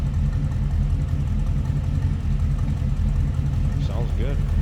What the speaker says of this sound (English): A little rumble coming out of that V8.